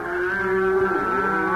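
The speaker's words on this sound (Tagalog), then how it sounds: "Nakikita mo ba ang mga kalabaw at mga baka?" Cattle mooing in a rural farm setting, one long drawn-out low moo that bends in pitch, close and loud, heard alone without speech.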